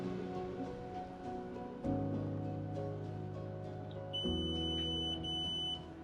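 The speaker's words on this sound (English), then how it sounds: "You hear there was a long beep followed by a short beep, which basically puts the system into pairing mode again" A ventilation control box entering pairing mode gives a long electronic beep, followed by a shorter high tone. Both are clear but fairly quiet over a low background hum.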